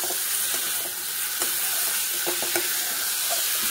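Egg and pointed gourd curry sizzles steadily as it is sautéed in spices in a pan, a continuous frying hiss with occasional clinks and scrapes of stirring.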